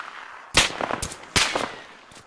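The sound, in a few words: gunfire from the video game ArmA 3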